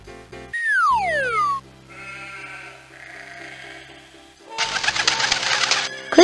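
A cartoonish bird call from the 1996 PC zoo game Danny and the Dinosaur, a bright, swooping tone that slides steeply downward, followed by quieter layered chirps and a burst of noisy, bleating sound.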